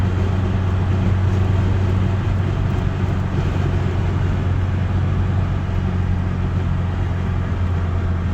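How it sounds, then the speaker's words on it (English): Steady low road rumble and wind hiss fill the cab of a 1988 Ford Ranger XLT pickup with a 2.3L engine, a constant broadband drone with no talk over it. "I don't know if you can hear the wind or not, but it does have some road noise."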